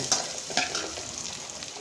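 Coconut and coriander sauté in a hot pan for a duck curry, giving a steady close sizzle broken by a few sharp stirring scrapes early on, with no voices.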